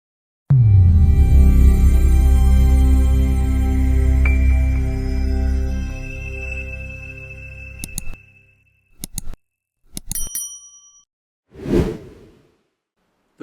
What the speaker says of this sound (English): Sorry about the rattling noise, that's the wind banging away on my roll-up doors.